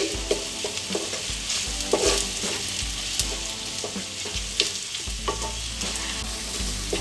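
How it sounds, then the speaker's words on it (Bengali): Red chilli powder masala fries and is stirred in a pan for a chicken dish, giving a loud, continuous sizzle with repeated scraping and tapping strokes of the spoon against the pan. The sound is close and has no speech. "ভালো করে মশলাটা আরও একবার মিশিয়ে দিচ্ছি।"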